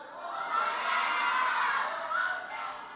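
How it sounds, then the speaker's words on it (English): A group of children shouts Hosanna together at a vacation Bible school session, a loud, sustained, high-pitched crowd cry. It swells, dips briefly, then rises again. "Everybody is excited and say, Hosanna. Can somebody scream Hosanna?"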